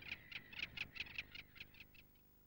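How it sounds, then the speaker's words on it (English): Little gull giving a series of about ten hard, short kiek calls in an even rhythm, fairly close and clear at first, then fading over the last few notes. "Their hard, kiek calls are more likely to be mistaken for a tern."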